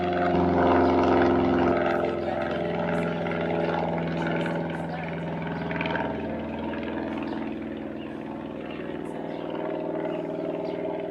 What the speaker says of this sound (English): There's an airplane.